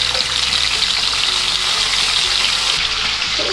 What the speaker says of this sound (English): We'll start by frying a pound of bacon.